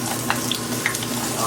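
Peppers and onion sizzle steadily in a pan over medium-high heat, a continuous broadband hiss with a few small pops and stirring clicks, close and fairly loud with no one talking.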